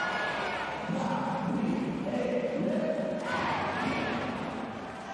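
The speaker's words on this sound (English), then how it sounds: "The crowd have a chant for every player from Italy." An arena crowd at the 2019 men's Olympic qualifying volleyball match between Italy and Australia chants in a sustained, tuneful swell for an Italian player, while a commentator talks over it.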